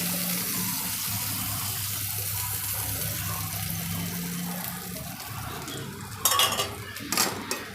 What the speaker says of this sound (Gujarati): થોડુંક આપણે લસણ મૂકીશું ને પછી આપણે એને પલટાવી દઈશું